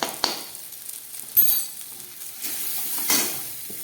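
Ground cumin, coriander and chili powder fry with rohu fish roe in a pan, making a soft continuous sizzle punctuated by a few sharp clinks and scrapes of stirring, with no voices.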